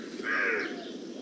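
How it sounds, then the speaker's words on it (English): A single harsh crow caw rings out clearly over faint outdoor background, one of several crows trying to steal a changeable hawk eagle's kill. "there are a few crows who are trying to steal the kill"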